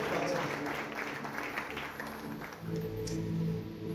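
Church congregation applauding during a special worship service, a dense continuous clapping wash with crowd voices mixed in, swelling again near the end.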